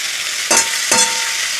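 Green chillies sizzle in hot oil with ginger garlic paste, a constant close frying hiss with two brief bursts of stirring or spattering, no voices.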